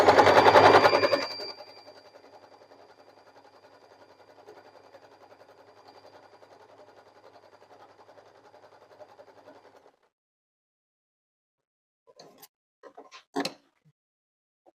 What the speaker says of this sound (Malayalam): ഇതുപോലെ ഒരു ഓവർലോക്കിങ് വരും.